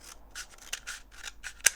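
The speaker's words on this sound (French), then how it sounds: "On prend un rouleau de papier toilette, donc que l'on va couper en deux." Scissors snipping through a cardboard toilet paper roll to cut it in half, a run of crisp close snips and crunches in a quiet room with one sharper cut near the end.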